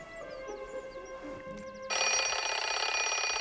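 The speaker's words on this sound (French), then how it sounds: "permettre à son mari d'entendre le réveil sonner" An alarm clock starts ringing partway through, a sudden loud, steady electronic ring that fills the rest of the moment after a quieter stretch with faint birdsong.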